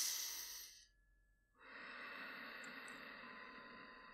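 Slow, conscious breathing during a guided meditation: a soft, close breath fades out, a brief pause follows, then a long airy inhalation begins and holds steady, quiet and unhurried with no speech.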